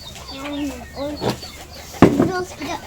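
Chickens on a farm cluck and call nearby in short, rising bursts, with a voice and background chatter mixed in outdoors.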